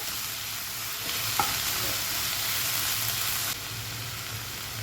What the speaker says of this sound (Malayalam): പിന്നെ നമുക്ക് ഇതിലേക്ക് കുറച്ച് കറിവേപ്പിലയും കൂടെ ചേർത്ത് കൊടുക്കാം നല്ലോണം നമുക്കൊന്ന് മിക്സ് ചെയ്ത് നന്നായിട്ടൊന്ന് വഴറ്റിയെടുക്കണേ